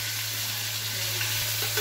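Green chilli and freshly ground ginger sizzle in hot oil in a wok, a steady close hiss of frying that holds at an even level throughout, with a faint low hum underneath and no voices.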